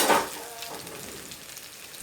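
Chips fry on a stove with a soft, steady sizzle that stays low and even throughout, a brief louder crackle at the start.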